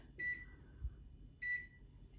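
Two short electronic beeps from a kitchen oven timer being set, sounding about a second apart against a faint, quiet room background.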